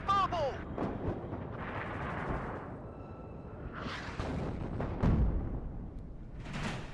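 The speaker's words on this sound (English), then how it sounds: "salvo we can make." Rocket artillery salvo fired in the WARNO real-time strategy game, a rapid series of whooshing launches and rumbling blasts that swell and fade over several seconds, loud and dense.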